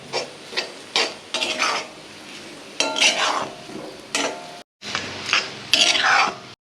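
Potato bonda filling being mixed with coriander leaves in a bowl, with close scraping and stirring clatter in short repeated bursts and brief pauses.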